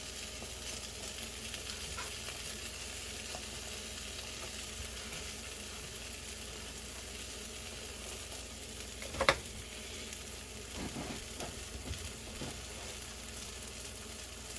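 Egg and cheese frying in a pan, with a steady quiet crackling sizzle throughout and a brief louder scrape or tap partway through, heard alone.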